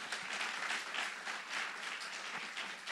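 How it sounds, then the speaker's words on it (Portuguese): A church congregation applauding together, a soft, steady wash of many hands clapping that sounds fairly distant and stays even for the whole stretch. "Então aplauda Jesus nessa noite"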